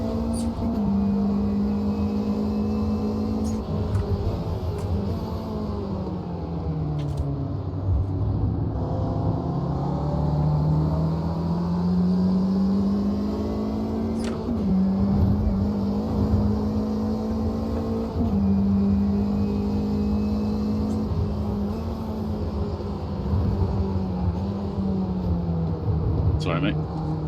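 A Ginetta G40 GT5 race car in the Automobilista 2 racing game, its engine droning loudly and close with repeated rises and falls in pitch through gear changes, accompanied by speech.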